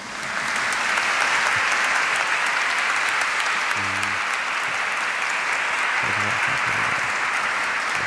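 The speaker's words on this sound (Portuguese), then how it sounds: "Para o Pedro, uma grande salva de palmas." A congregation at Mass claps in a long, dense round of applause, steady and loud throughout with no break, a brief low tone sounding twice beneath it.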